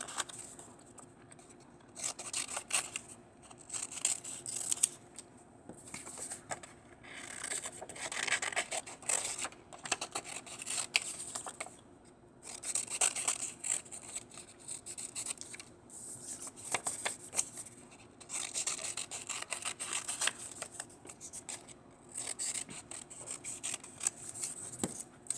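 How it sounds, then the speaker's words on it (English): Scissors cutting out paper feathers for a turkey art craft, a long quiet stretch of soft, steady snipping and paper rustling, close up with no talking. "Cut out all of the feathers."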